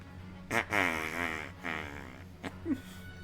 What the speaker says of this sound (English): It's like the sound of a balloon deflating. Yeah. Just the fart noise.